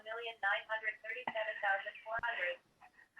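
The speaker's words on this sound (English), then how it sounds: "I love that my phone reads me my text messages, but not when I don't want it to." A phone's synthetic voice reads a text message aloud in a steady, close, clipped stream of speech, with a few brief clicks between phrases.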